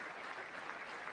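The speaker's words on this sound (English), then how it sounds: "We'll clap for that." Faint, steady applause from a large chamber audience at a State of the Union address, a brief wash of distant clapping with no talk over it.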